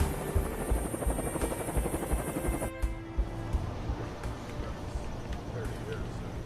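Marine One presidential helicopter on a lift from JFK Airport to downtown New York, its rotor chop a fast steady thump under a loud engine whine, with a voice speaking over it.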